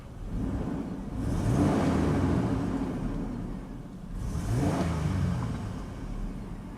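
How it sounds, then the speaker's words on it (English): A Chevrolet Vortec V8 in a Blazer SUV runs steadily nearby, bogging slightly, swelling twice into louder revs before settling back to a deep, even rumble. "I love the way these Vortec engines sound."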